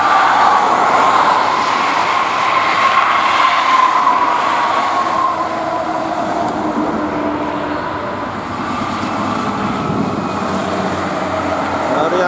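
A train rumbles steadily past the JPL 74 level crossing at Temuguruh, Banyuwangi, a loud continuous roar of wheels and cars that barely eases over twelve seconds.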